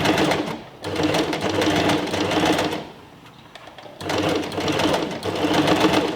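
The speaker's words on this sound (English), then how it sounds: "And then just take my time and steadily sew the seam." A sewing machine stitches the seam of a cushion cover, running in loud, steady bursts of rapid mechanical whirring close by, pausing briefly in the middle before starting up again.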